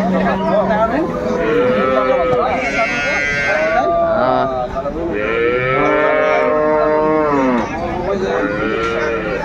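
Dairy cows and calves of improved breeds at the Aftabganj cattle market in Dinajpur low repeatedly, with long overlapping moos near and far over the bustle of the crowded market and someone talking.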